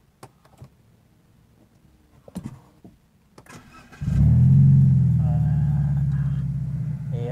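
A 2006 BMW 116i E87 hatchback with keyless start, a few clicks before the engine cranks and catches, then settles into a steady, close, rumbling idle.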